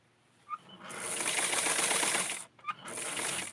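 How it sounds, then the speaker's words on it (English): A sewing machine stitches a custom garment in two close bursts of whirring hum, separated by a brief pause and a few small clicks, with no speech. "so I'm going to complete this part of the sewing"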